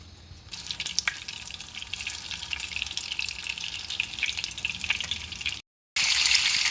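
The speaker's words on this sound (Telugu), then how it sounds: "నూనె వేడైంది. కాకరకాయలను వేసుకుందాం." Bitter gourd pieces dropped into hot oil, giving a steady, fairly loud crackling sizzle that keeps going, with a brief cut near the end before the frying noise returns.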